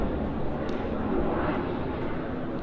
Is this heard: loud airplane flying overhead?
yes